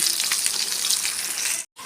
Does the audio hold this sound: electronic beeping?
no